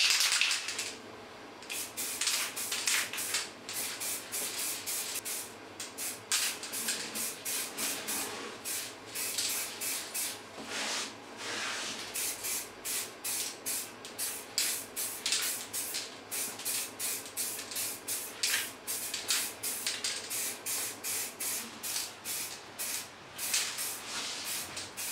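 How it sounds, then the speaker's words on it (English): Surface primer is spray-painted from an aerosol can onto a metal engineer's file rack, in many short hissing bursts of varying length separated by brief pauses, close and fairly loud. "I'm going to prime it using some surface primer"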